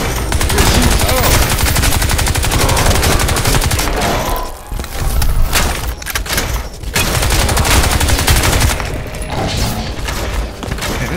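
Rapid automatic gunfire in Crysis 2 Remastered, loud and close, rattling almost nonstop in long bursts with a few brief gaps and booming impacts mixed in.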